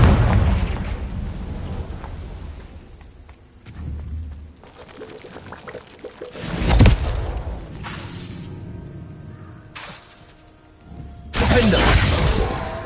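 A Confringo fire spell explodes in the Hogwarts Legacy video game, sounding as several sharp bursting blasts with crackling, shattering debris, the loudest near the middle and another strong burst near the end over rumbling game ambience.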